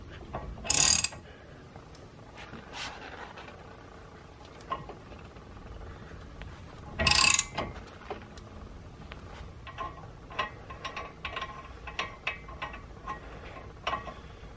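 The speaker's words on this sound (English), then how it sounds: "remove this nut that's on the hub here. I'm going to put a screwdriver in there so that way it doesn't turn when I try and loosen this." A ratchet clicks as it works the front hub nut loose on a Saab 9-3 Aero during a brake job, with two loud bursts of clatter and scattered rapid ticks through an otherwise quiet garage.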